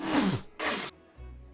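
A quick burst of breath, then a sharp sneeze-like blast, followed by a brief low rumble in an otherwise quiet space.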